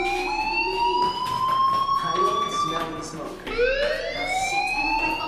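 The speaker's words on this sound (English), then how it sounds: "do you hear that fire alarm?" A fire alarm rings in the Life Is Strange video game, a loud electronic wail that sweeps upward in pitch, breaks off, then starts another rising sweep.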